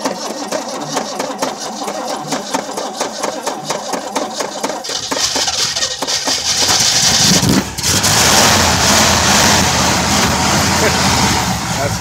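A 1967 GMC 4x4 dually truck's 350 engine cranking with a rapid whirring starter for several seconds, then catching on a cold start and roaring into a loud, steady rough idle, with voices talking over it.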